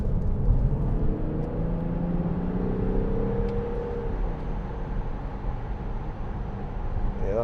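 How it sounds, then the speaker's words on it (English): A 2010 Audi Q7 6.0 TDI V12 diesel accelerating uphill, heard from inside as a deep, steady engine rumble with a rising drone, moderately loud and continuous, without talking. "let's just give it some gas going up here if the road's clear. And I'll show you what hyperthrust is like in a 6-litre V12."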